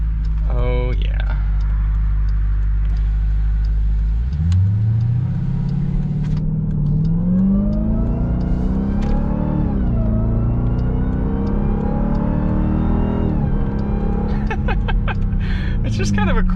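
The supercharged engine of a 2021 Dodge Durango SRT Hellcat drones at idle, then revs and pulls hard as the SUV accelerates through the gears. The loud, rising engine note is heard from inside the cabin, with people talking over it.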